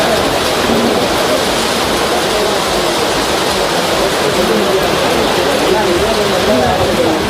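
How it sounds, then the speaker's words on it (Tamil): Heavy rain falls at night over Dharmapuri town in Tamil Nadu as a dense, loud, unbroken hiss of downpour, with a voice speaking faintly beneath it. "திடீரென கனமழை பெய்தது."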